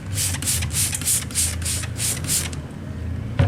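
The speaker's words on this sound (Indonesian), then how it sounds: "Kita semprot lagi." Spray bottle misting water onto screen-print DTS transfer paper, about eight quick hissing bursts in a steady rhythm, close and fairly loud over a low hum, then a short thump at the end.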